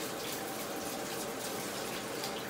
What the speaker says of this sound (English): Step over here and turn the water on,